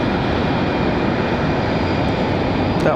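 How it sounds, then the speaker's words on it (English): A CRJ regional jet at the end of the runway at Raleigh-Durham International Airport, a loud, steady engine roar with no talk over it. "That's CRJ down there at the end of the runway."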